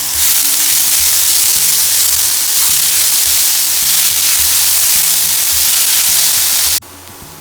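Finely chopped onion sautéing in a hot pan, a loud, continuous close hiss and sizzle with faint rhythmic stirring, cutting off abruptly near the end.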